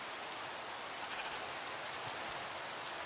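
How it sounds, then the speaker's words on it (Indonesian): Heavy rain pours steadily outdoors during a journey near a river, a dense, even hiss of drops hitting surfaces with no pauses and no voices. "Di tengah perjalanan, hujan turun deras banget."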